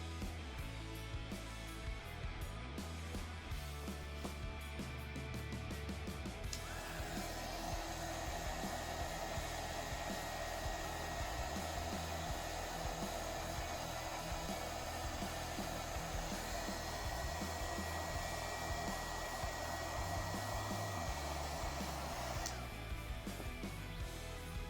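A heat gun shrinking tubing onto a miniature incandescent light bulb, a loud steady blower whine and rush that starts up and holds for most of the stretch before cutting off, with no talk.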